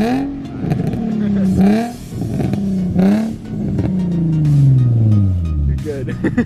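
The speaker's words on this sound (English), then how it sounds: "This kid's car is a lot louder." A modified car with test pipes, a Y pipe and a cat-back exhaust revs repeatedly nearby, with rising and falling bursts and a long sweeping pull; people talk over it.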